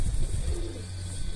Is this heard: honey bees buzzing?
no